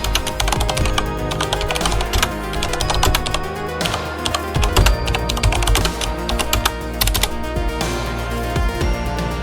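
Steady, rapid typing on a computer keyboard while entering a Linux command, a dense stream of crisp key clicks and taps close up, continuous and alone with no talking.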